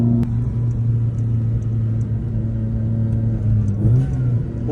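Car engine at a car meet in Italy, idling with a steady low rumble and a brief blip of revs near the end, close and loud with no talk.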